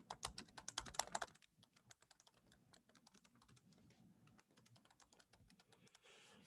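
Rapid keyboard typing nearby, a quick burst of clacking keys that settles into softer, irregular tapping.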